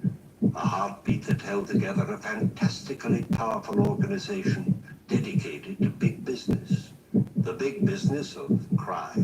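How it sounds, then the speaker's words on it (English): A heartbeat sound effect in an old radio drama thriller thumps in a steady, slow double-beat rhythm beneath someone narrator's continuous talk. "That sound you hear is a heartbeat"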